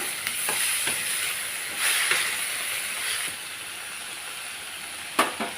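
Mushrooms with turmeric sizzling and hissing in a hot pan, a steady close frying crackle broken by a few scrapes of stirring.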